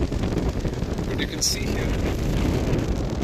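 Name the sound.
strong wind at a lake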